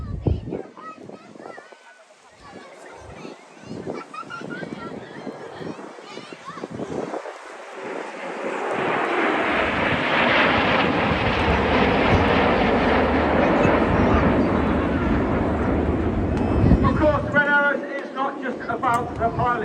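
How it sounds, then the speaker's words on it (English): Red Arrows BAE Hawk T1 jets fly in formation at the 2022 Bournemouth Airshow, their roar swelling from faint to a loud, sustained rush mid-clip and then easing, with a child and other people talking in the crowd. "the Red Arrows the sole operator of the Hawk T-Mark I in the United Kingdom"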